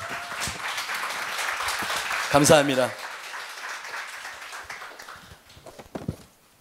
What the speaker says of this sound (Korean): 박수로 맞이해 주시길 바랍니다